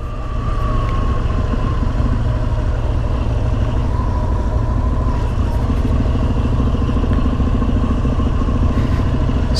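A group of eight Harley-Davidson XR1200X motorcycles cruises along the BR-040 highway, their engines a loud, steady, continuous drone mixed with wind rush and no talking.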